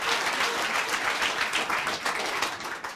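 Dense audience applause fills the space continuously at a Swiss TV cooking-show finale, loud and sustained with many hands clapping together.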